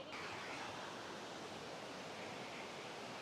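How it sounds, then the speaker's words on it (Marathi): Thoseghar waterfall in the monsoon pours as a steady, broad rush of falling water, a constant hiss heard from some distance with no voices. "धबधा इथं मोठा धबधा आहे आणि तिकडं छोटा धबधा आहे"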